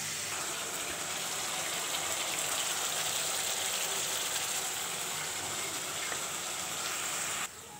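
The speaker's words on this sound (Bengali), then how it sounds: "এবার ভালো করে কষাবো।" Spice masala frying in a pan for a fish dish, with a splash of water just added: a steady, loud, sizzling hiss that stays even throughout and drops off sharply at the very end.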